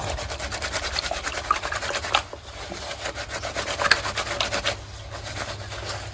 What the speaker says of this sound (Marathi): बघा असं शर्टला सर्व चोळून घ्यायचे